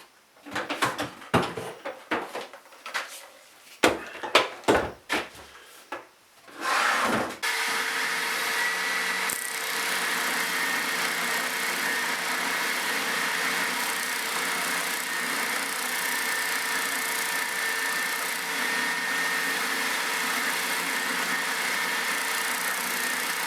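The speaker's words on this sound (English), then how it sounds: "next we can break out the spindle sander and just get these little bits cleaned up" Spindle sander cleaning up small wooden parts, starting with several sharp knocks and handling bumps before the motor spins up into a steady, loud whine that runs to the end.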